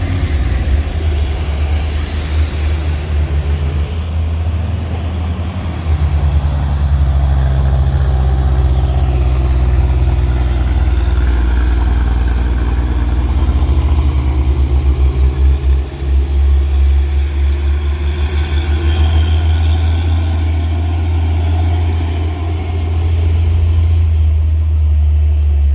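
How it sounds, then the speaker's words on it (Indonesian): Hino and Fuso trucks climb a steep hill with a loud, steady low diesel engine rumble that holds throughout, swelling slightly midway and staying up close without talk. "ini ada truk Hino dan Fuso menanjak ya teman-teman."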